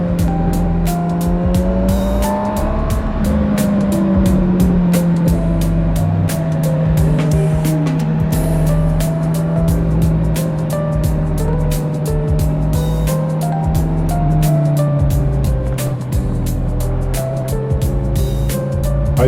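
A Honda CB1000R Black Edition motorcycle engine drones steadily and loudly at close range as the bike rides along, its exhaust note rising and falling gently, with wind buffeting and no talk.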